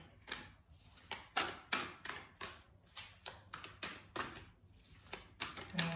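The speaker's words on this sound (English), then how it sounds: "It's not easy to shuffle such a big deck" A large deck of tarot cards shuffled by hand close up, with a steady series of about fifteen crisp riffling slaps in a loose, regular rhythm.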